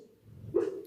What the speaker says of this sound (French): c'est mon chien, et il est en train de faire un rêve